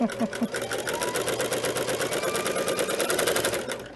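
A sewing machine runs fast and steady while ruffling flat fabric for a pettiskirt, a loud, close, rapid rhythmic chatter that continues throughout.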